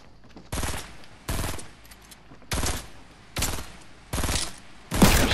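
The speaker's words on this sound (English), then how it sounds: "Shoot that ramp down." Rapid bursts of automatic gunfire in Fortnite, fired at a player-built ramp: six loud, dense volleys separated by short gaps, close and dominant.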